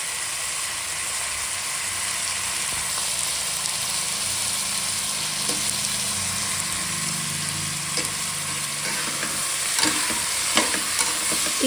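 Chopped vegetables sizzle steadily in a hot pan while being stir-fried for vegetable pulao, a constant close frying hiss with occasional scraping stirs toward the end and no talking.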